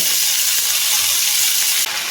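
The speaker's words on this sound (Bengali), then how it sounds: "এবার আমি এর মধ্যে দিয়ে দিচ্ছি সজনে ফুলগুলো" Drumstick flowers dropped into potatoes already frying in a pan set off a loud, dense, continuous sizzle and hiss, close up and steady, with no talking.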